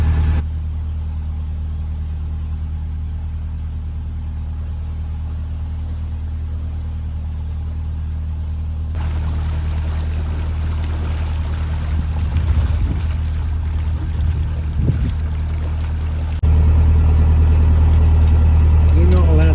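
A narrowboat's engine chugs on a narrow, curving canal, a steady low rumble that continues throughout and grows heavier toward the end, with people talking over it.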